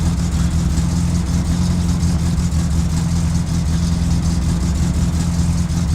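A loud, rough car engine in the video game My Summer Car drones continuously without a muffler, a harsh low rumble with a raspy buzzing edge, steady and close.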